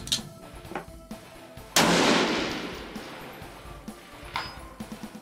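A single loud rifle shot from a 6.5 Creedmoor rifle at a shooting range, a sharp crack followed by a long rolling decay, with faint background noise before and after.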